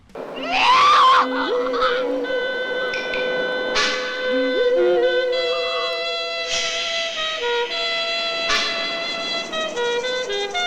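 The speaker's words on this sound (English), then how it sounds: "After an epic scream, of course." A woman lets out a loud, piercing scream in a giallo film stabbing scene, followed by a tense, sustained orchestral music score with swelling tones and sharp hits.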